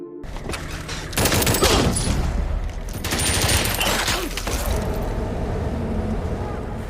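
Bursts of rapid drone gunfire in a film scene, two loud fusillades separated by a short lull, over a heavy rumbling background.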